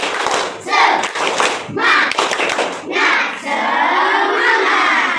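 A class of schoolchildren performs the tepuk semangat chant, bursts of rhythmic clapping alternating with loud, unified shouts, ending in a long sustained group cry.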